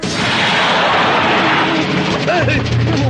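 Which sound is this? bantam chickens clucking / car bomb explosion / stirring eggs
car bomb explosion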